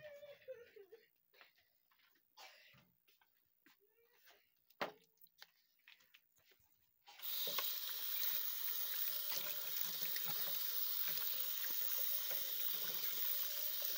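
A household water tap runs steadily into a sink or container as drinking water is fetched for a crying child, a loud continuous gush that starts abruptly after a stretch of quiet with faint whimpers and sounds of movement.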